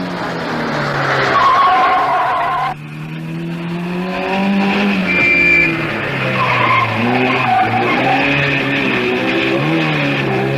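A 1958 Triumph rally car on the Coupe des Alpes spins and skids, with loud tire squeal and a revving engine up close, mixed with a narrator's voice.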